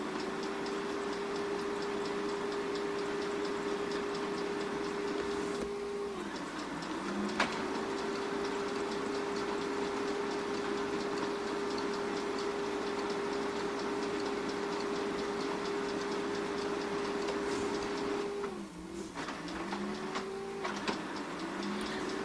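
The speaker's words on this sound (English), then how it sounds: "because it's a laser printer, it needs to kind of warm up its process" A Brother NFC9340CDW color laser printer warming up on its first power-on. It makes a steady mechanical whir with a constant tonal hum, interrupted twice by brief shifts and clicks as the internal mechanism changes state. No one speaks.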